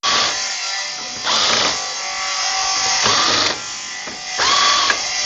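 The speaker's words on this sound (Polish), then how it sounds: "Odkręcamy tutaj bagażnik." A power tool whirs in bursts while the bolts of the luggage rack come off a Chinese 4T Romet Router scooter, with loud, close buzzing that swells and eases several times without a break.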